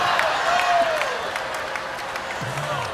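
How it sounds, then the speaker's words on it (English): A crowd applauds at a belly flop contest, dense clapping at steady volume across the whole stretch, with a faint voice or whistle sliding underneath. "give him a big round of applause"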